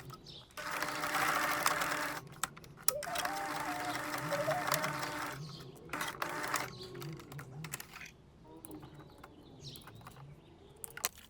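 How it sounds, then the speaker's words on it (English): A sewing machine stitches elastic into a polar fleece jacket, running in long steady bursts with short pauses and a faint mechanical rattle between runs. "sew the elastic"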